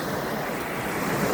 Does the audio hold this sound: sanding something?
no